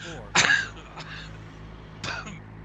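A man coughs with asthma, giving one sharp, loud cough followed by a smaller one and another cough about a second and a half later, over a steady low engine hum.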